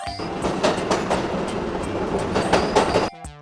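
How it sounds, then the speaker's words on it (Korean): A subway train runs along underground rails, its steady loud rumble broken by rhythmic wheel clacks for about three seconds before it abruptly cuts off. "땅 밑으로 철도를 놓고 달리는 기차를 지하철이라고 불러요."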